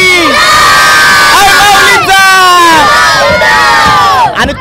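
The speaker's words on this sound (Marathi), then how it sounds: "ज्या जल्लोषात पालखी निघाली होती तोच जल्लोष आपल्याला पालखी मंदिरात पोहोचणार आहे" Loud festive crowd cheering and whooping with shrill children's shouts as the Shanteshwari Mata palanquin procession arrives at the temple, a continuous dense roar filling the whole stretch.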